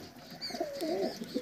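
Pigeons of a fine breeding line coo in soft, low, throaty rolls that rise and fall, repeating several times close by, with faint chirps and outdoor background noise.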